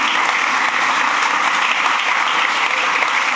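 Steady, dense applause from an audience at a groundbreaking ceremony for the new LaGuardia Airport, continuing evenly throughout without pauses.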